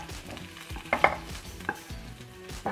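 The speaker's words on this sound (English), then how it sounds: "Now I'm going to transfer this to my slow cooker." A spoon scrapes cooked onion out of a pan and into a slow cooker, giving a few close clinks and scrapes over a light sizzle, with no talking.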